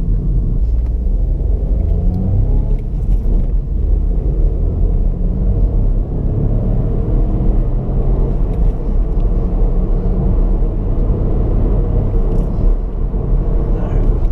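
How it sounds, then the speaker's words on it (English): A 2018 Ford Fiesta Titanium's 1.0 EcoBoost three-cylinder engine gives a low, muted thrum on the open road, a continuous rumble with road noise heard from inside the cabin. "you can get that three-cylinder thrum, which is good."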